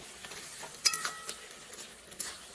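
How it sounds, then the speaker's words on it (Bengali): Tomato-chili paste with salt, turmeric, cumin, coriander and dried chili powder sizzles quietly in a pan, with a few sharp scraping stirs breaking through the soft frying hiss. "মশলাটা ভালো করে এবার কষিয়ে নিতে হবে"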